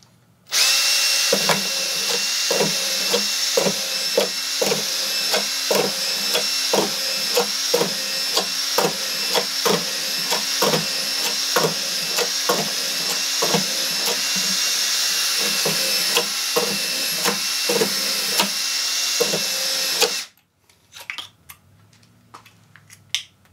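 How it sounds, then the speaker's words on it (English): A power drill fitted with a rapid-feed screw attachment drives screws into wood, with a steady high motor whine punctuated by dozens of quick sharp clicks in fast rhythm, close up, cutting off abruptly near the end. "Let's just see how fast we can put some screws in."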